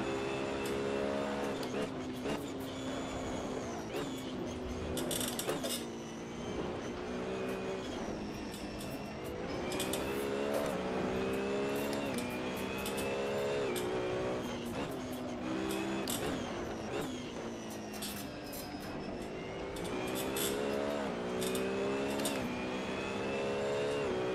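Race car engine held at full throttle around Bathurst in Assetto Corsa, a loud continuous howl rising through the gears with sharp shift drops every few seconds, running steadily for the whole stretch.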